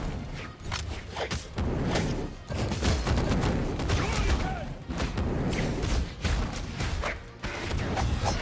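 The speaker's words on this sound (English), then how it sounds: "Bomb." Brawlhalla 2v2 ranked match with dense in-game combat: repeated booming impacts and crash-like blasts of a bomb explosion over busy game audio, with people talking over it.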